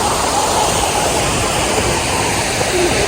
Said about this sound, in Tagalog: So napakaganda ng waterfalls nila dito. Sobrang haba.